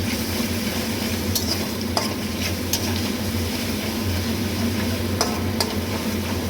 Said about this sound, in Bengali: এবার আমি সাদা তেল দিলাম, এবার দিলাম রসুন আর আদা কাঁচা লঙ্কা